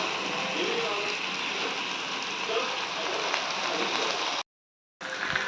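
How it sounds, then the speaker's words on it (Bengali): Spices for a jackfruit and prawn curry sizzling steadily as they fry in a pan, a continuous dense hiss that cuts out briefly near the end. "এখন মশলা কষানো চলছে।"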